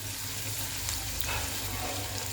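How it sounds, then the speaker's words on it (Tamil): Onion and garlic sautéing in a hot pan for an oats Manchurian recipe, a close, steady sizzle with a faint scrape of stirring partway through. "பெரிய வெங்காயம் கட் பண்ணி வச்சுருக்கேன், அதை போட்டுக்கலாம். போட்டு நல்லா வதக்கி விடலாம்."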